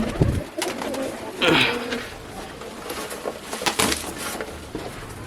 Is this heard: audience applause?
no